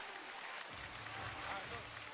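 A crowd at a professional boxing bout in Tokyo, Japan cheers and applauds at the end of round two, a steady roar of noise under a commentator's voice.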